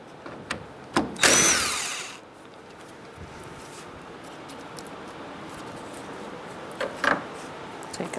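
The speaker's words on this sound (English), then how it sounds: "Now we're going to use a 10 millimeter to take out the radiator bracket bolts" A 10 mm socket loosens the radiator bracket bolts on a 2010-2013 Kia Soul 2.0L L4, giving a short burst of ratcheting whir followed by faint clicks and metallic taps against a quiet background.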